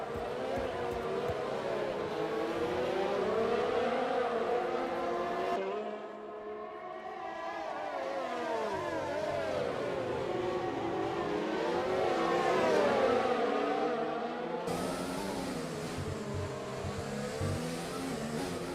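F1 2020 racing cars roar through a race at the Azerbaijan circuit in the video game, several engines whining and shifting pitch continuously as they accelerate and brake close together, loud and sustained throughout.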